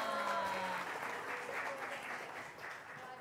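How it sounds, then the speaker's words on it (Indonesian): Audience applause for a guest pilot at a school museum event, a burst of many hands clapping that starts loud and slowly thins out, with voices faintly mixed in. "Boleh dong berikan tepuk tangan dong."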